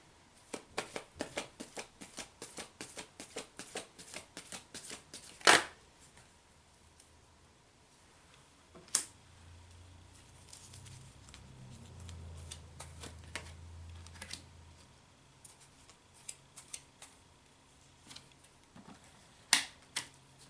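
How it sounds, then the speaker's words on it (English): Quick riffle shuffles of an oracle card deck, bursts of rapid flicking clicks with sharp snaps and soft handling noise between, close and clear. "I'm going to shuffle a couple more decks of cards"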